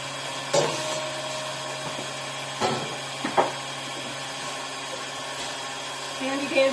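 An electric mixer creams cake batter ingredients for an oatmeal cake, giving a steady, close motor whine that runs the whole time, broken by a few sharp knocks of the beaters against the bowl.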